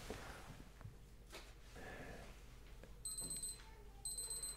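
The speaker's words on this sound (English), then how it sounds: "the alarm went off, but it also automatically repeated and it'll just keep going" Casio W740 digital watch from the 1990s sounding its countdown timer alarm, quiet, close, high electronic beeps in two bursts near the end after faint handling noise.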